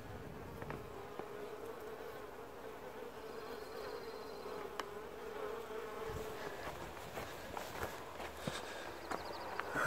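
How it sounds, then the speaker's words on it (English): A low, continuous hum of honeybees buzzing around a hive on a hot July morning in Newfoundland, faint and steady, with occasional soft knocks and shuffling nearby. "these bees are really cooking, and I'm going to give them some relief"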